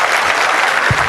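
A brief burst of loud, dense applause from a crowd at a motivational seminar, with many hands clapping at once.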